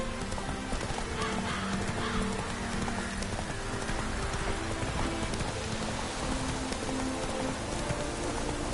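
Roach the horse trots in The Witcher 3 on PS4 with steady clip-clop hoofbeats under constant rain, and a voice speaks briefly.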